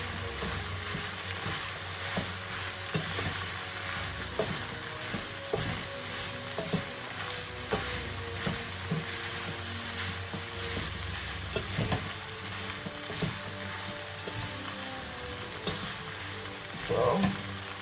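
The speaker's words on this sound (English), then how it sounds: "I'll just leave that to fry for a minute in its own juices." Onions and chunky-cut mushrooms fry in a pan for a chicken and mushroom curry, giving a loud, steady sizzle with scattered pops and crackles throughout and no voices.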